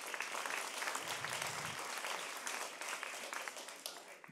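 Sustained applause from an audience, dense clapping filling the room for several seconds, steady and fairly loud throughout.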